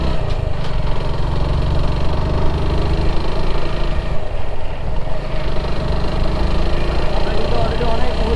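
A motorbike engine drones loud and steady throughout, straining uphill in a Sreemangal tea garden, labouring continuously with a rough, constant hum.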